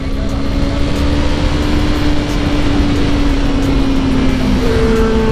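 A Benelli 600i motorcycle rides on the road during a drag race, its steady engine drone running loud and unbroken throughout, with a sustained whining tone over constant road noise.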